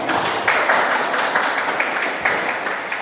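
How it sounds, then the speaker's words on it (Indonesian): A room of teachers at a training session applauds, a dense continuous wash of many hands clapping at a steady, fairly loud level throughout. "kalau mau tepuk tangan dulu"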